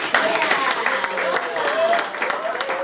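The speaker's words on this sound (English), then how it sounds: "let's give a round of applause to Dr. Roberto." Applause from a board of education meeting audience, a moderate crowd clapping steadily at mid distance, with voices and cheering mixed in over the claps.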